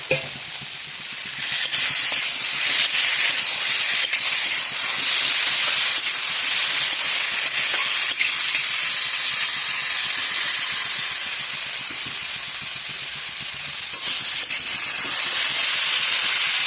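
Slit green chilies sizzle in a hot pan during cooking, a loud, steady frying hiss with faint stirring scrapes, close up and unbroken by speech.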